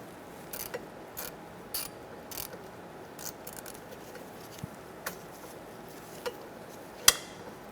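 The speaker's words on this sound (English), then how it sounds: "Using an E7 inverted socket, we're going to take out this bolt for the speed sensor." Ratchet wrench with an E7 inverted socket loosening a speed sensor bolt on a 2004-2009 Mazda 3 rear hub, heard as quiet, sparse clicks spread irregularly over a low background hum, with one sharper click near the end.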